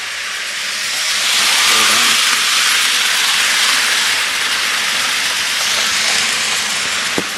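A model locomotive runs on a track circling a Christmas tree indoors, giving a steady broadband hiss and steam-like rush that swells after a second and holds, with a sharp click near the end.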